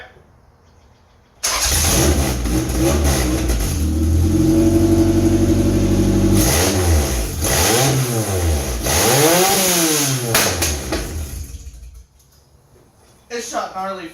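A GSR-swapped Honda Civic EK sedan engine starts and revs hard for about ten seconds, loud and close, with rising and falling throttle blips before cutting out, then briefly firing again.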